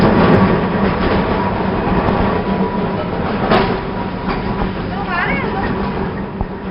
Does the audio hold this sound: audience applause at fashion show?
no